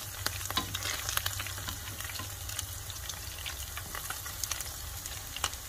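Dried fish frying in hot oil gives a steady, dense sizzle and crackle throughout, close and even, with occasional sharper pops and no talking.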